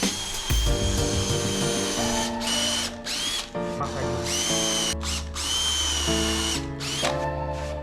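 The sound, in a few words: power drill driving in screws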